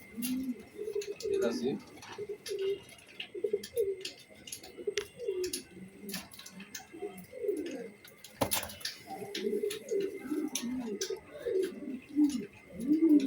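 Budapest racer pigeons coo steadily in a repeated, throaty rolling rhythm, several birds close by, with a sharp knock near the middle and faint chirps above.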